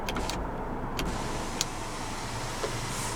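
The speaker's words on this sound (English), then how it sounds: "the controls for your power sunroof" In a 2016 Subaru Crosstrek 2.0i Limited, the power sunroof opens with a soft, continuous electric motor drone inside the cabin, marked by a few faint clicks and ticks.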